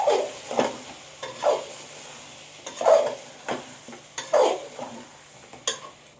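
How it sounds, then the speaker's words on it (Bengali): Mutton being sautéed with ground spices including cumin powder in a pot, a soft sizzle broken by regular scraping stirs and light clinks of a spoon against the pan, close by and without speech. "এবার এগুলো আমি মাংসের সাথে ভালো করে মশলাগুলো কষিয়ে নেব 4-5 মিনিট ধরে"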